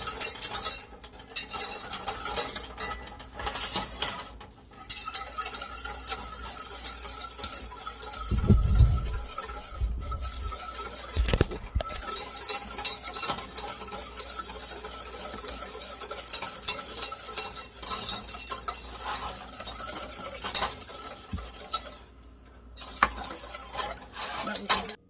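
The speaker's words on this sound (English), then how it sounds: "add the sugar in, keep stirring it" A spoon stirs sugar into rice pudding in a pot, following an 1863 recipe, with close scraping and knocking against the pot in an uneven rhythm that continues for the whole stretch.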